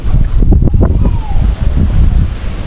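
Strong wind gusting across the Clear Water Bay coast in Hong Kong, a loud, steady buffeting roar on the microphone with a few faint voices underneath.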